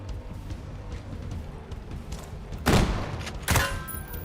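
Gunfire in the Xbox shooter Ghost Recon Breakpoint, two sharp loud bursts late in the clip standing out over a low, busy game ambience with no clear talk.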